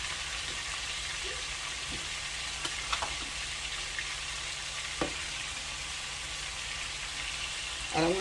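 Beef tips browning in a pan over turned-down heat, giving a steady soft sizzle and frying hiss throughout with a few faint clicks and stirring scrapes, no talk.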